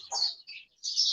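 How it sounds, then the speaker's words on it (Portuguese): Birds chirp in short, bright, high bursts with brief gaps between calls, faint and alone. "O canto dos pássaros."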